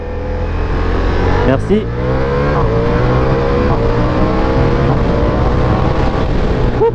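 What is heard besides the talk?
Ducati Diavel V4 motorcycle engine accelerating with quickshift gear changes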